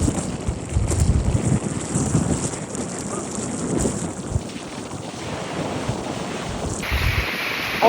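Strong winter-storm wind buffets the microphone as ocean surf crashes at Brighton Beach on the North Shore, a loud, continuous roar of gusts and breaking waves with no speech.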